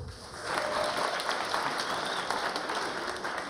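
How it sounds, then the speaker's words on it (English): Audience at RuneFest 2015, a RuneScape fan convention, breaks into sustained applause in a large hall, dense continuous clapping filling the room at a steady loud level. "have another round of applause there"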